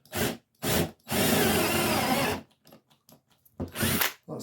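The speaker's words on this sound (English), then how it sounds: "So I'll put a piece of tape on my drill." A cordless drill bores into scrap wood in several close, loud bursts, with short spins, one longer drilling run and then a weaker final whir as the battery runs flat.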